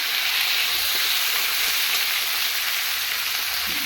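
A fish head fries in hot oil for a curry, a loud, dense, continuous hiss and sizzle that holds steady and close with no pauses.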